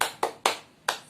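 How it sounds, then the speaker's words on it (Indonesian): Schoolchildren perform a rhythmic spirit clap in a classroom: four sharp, loud claps in an uneven pattern, close and clear with no talk. "apresiasi kita dengan melakukan tepuk semangat ya"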